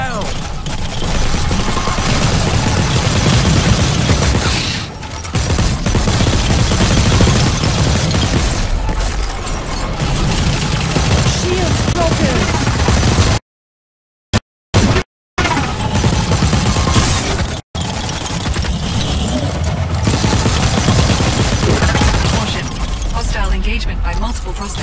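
Gunfire in the shooter game The Cycle, a dense, loud barrage of rapid shots and booms nearly throughout, broken by brief silent gaps, with voice callouts over the top.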